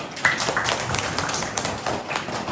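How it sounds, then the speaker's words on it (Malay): Scattered hand claps from a small class of schoolchildren praising a classmate, a few uneven sharp slaps over a couple of seconds, fairly close with faint background murmur. "tepuk tangan"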